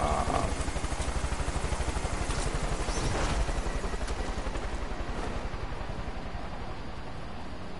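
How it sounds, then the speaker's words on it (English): A helicopter flies in the video game Far Cry 5, its rotor pulsing in a fast steady chop over a dense engine roar that stays loud throughout, slowly growing slightly duller. "Look at the chopper. It's just flying."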